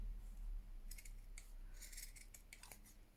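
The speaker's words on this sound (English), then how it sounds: "So I'm going to cut that halfway" Scissors snipping through lace for a handmade junk journal cover, a few crisp close cuts clustered mid-clip over a quiet background.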